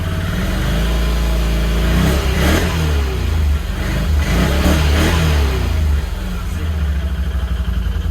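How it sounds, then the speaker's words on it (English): A Can-Am Outlander ATV engine idles and is revved several times in quick bursts, rising and falling close to the microphone, then settles back to a rough idle. "You can see revving the quad up."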